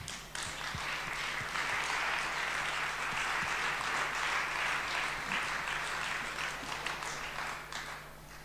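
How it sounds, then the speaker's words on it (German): An audience applauds the jury at a poverty-action conference, a dense, sustained wash of clapping from a large crowd that holds steady for several seconds before easing slightly at the end. "das ist ein Applaus für die Jury"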